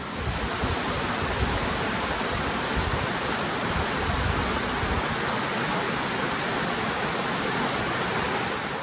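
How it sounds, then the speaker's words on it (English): Glacial runoff of the Elwha River in Olympic National Park rushing past, a broad steady roar of flowing water, close and constant with no break. "this is the Elwha River right behind us"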